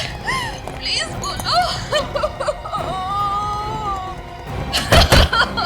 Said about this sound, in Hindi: हाँ सर, ये तो रोने की आवाज है।